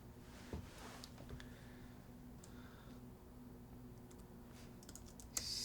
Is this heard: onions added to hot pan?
no